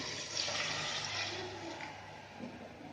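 Water pours in a steady rushing stream into a cooking pot, close and fairly soft, with a slight splash as it fills.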